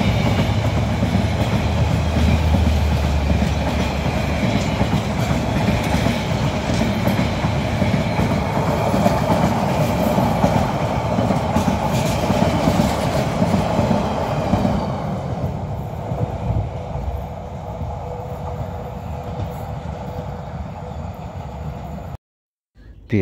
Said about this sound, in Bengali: আর এই ট্রেনটি চট্টগ্রাম থেকে কক্সবাজার রেল স্টেশন এরিয়ার ভিতরে প্রবেশ করছে।